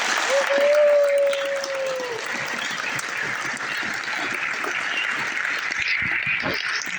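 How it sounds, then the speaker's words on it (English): A school awards ceremony audience gives a big round of applause for the student body officers, a continuous crowd clapping that holds steady, with a brief tone early on and faint voices mixed in. "If we could give them a big round of applause."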